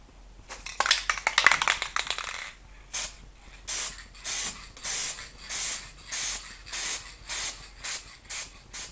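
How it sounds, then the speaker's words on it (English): A can of silver spray paint hisses in one long burst, then in a steady series of short, evenly spaced sprays, close up with no talking. "I'm spraying it down with the silver spray paint."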